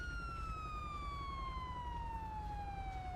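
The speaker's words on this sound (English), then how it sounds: "And get the siren turned off." Police car siren from the video game LSPDFR, a steady tone sliding slowly downward in pitch throughout, loud and continuous over a low rumbling background.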